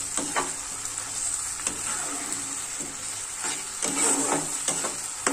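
Masala for doi katla curry frying in a pan while being stirred, loud continuous sizzle broken by repeated spatula scrapes and bursts of crackle, close up with no voices.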